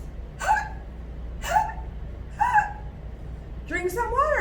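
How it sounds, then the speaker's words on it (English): Four sharp hiccups spaced about a second apart, each a quick voiced squeak-like catch, close and clear over a quiet background, the last one followed by a rising vocal sound. "But nothing worked. The hiccups stayed."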